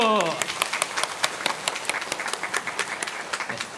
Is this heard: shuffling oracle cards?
no